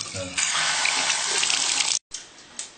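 Water gushing from an electronic faucet into a sink, a loud steady hiss that stops abruptly, then resumes more softly.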